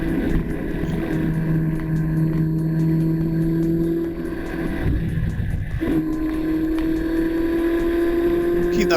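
A motorcycle engine pulls steadily under throttle through a set of road corners on the Kinlochewe to Ullapool route, a continuous loud drone whose pitch dips briefly and then rises again as the rider winds on, with wind noise.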